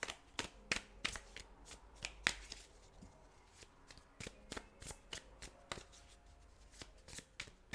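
Tarot cards are shuffled close by, soft riffling and sharp card slaps repeating in an uneven rhythm, quiet overall with no talk.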